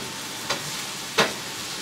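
Sautéed zucchini, yellow squash, onions and garlic hiss steadily in a pan, with two quick scraping stirs standing out over the constant sizzle, close and with no talking.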